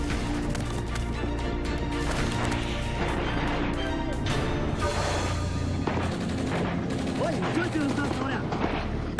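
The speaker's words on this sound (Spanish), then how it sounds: "¡Que disparen con la Dushka!" A DShK (Dushka) heavy machine gun fires during a pirate attack off Somalia, with dense, loud, continuous bursts and booming reports running throughout, layered over busy battle noise.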